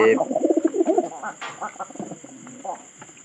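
Soft, low pigeon coos repeat in short rolling bursts close by, with scattered chirps and a faint voice in the background.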